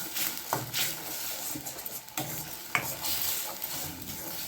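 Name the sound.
sautéing green masala for Chettinad egg phal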